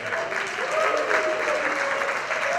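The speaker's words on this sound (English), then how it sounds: "Let's give a big round of applause" An audience applauds at a fundraising evening for underprivileged children's medical treatment, dense steady clapping filling the hall, with a faint tone carrying over it.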